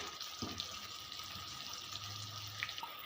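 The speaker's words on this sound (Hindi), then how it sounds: "थोड़ा सा पानी ऐड किया इसमें" Water poured into a tomato and onion masala with salt and crushed red chilli for a dhaba-style chana dal, giving a steady close splashing hiss over faint sizzling with no talk.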